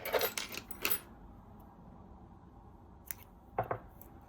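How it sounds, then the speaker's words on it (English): Scissors snip a crochet yarn tail in a quiet room, with a few short, crisp cuts near the start and a couple more after a pause. "And now you can just cut this yarn tail."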